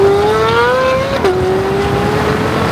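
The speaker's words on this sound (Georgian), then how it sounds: "ამ ძრავს აქვს ეგრეთ წოდებული ბრტყელი კალენვალი, ანუ მუხლა ლილვა" A 670 hp Corvette with a flat-plane crank engine revs loudly, its pitch climbing steadily before dropping slightly and holding a sustained high-rpm wail, close and continuous with no talk.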